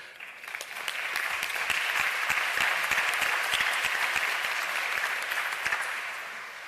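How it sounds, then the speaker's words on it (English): Audience applause fills a college event hall, a dense steady clapping that swells and holds loud for several seconds before easing slightly at the end. "They clapped early, Amanda."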